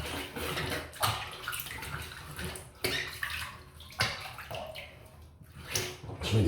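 Tap water runs steadily into a sink as shaving cream residue is rinsed from a razor, with splashing pulses and flow changes throughout.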